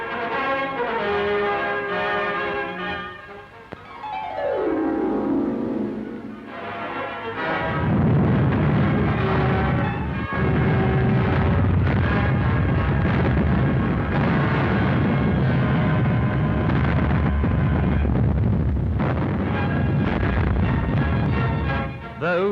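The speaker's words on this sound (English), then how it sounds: "Those were the guns of Stalingrad." Artillery guns firing at Stalingrad in a 1943 wartime newsreel, a dense roar of heavy gunfire and rumbling blasts that swells and holds after a descending tone, loud and continuous.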